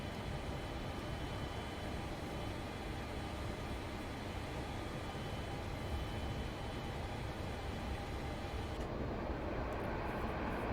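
Boeing 747-200 airliner engines in a flight simulator game give a steady, loud broadband roar with a constant hum, running evenly without a break; the high hiss drops away near the end.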